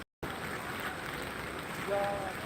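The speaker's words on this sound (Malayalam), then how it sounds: "മഴ ഇങ്ങനെ പെയ്തിട്ടേ ഒരു രക്ഷയും കിട്ടില്ല" Steady rain pours down in a dense, even patter, with a faint voice murmuring underneath near the end.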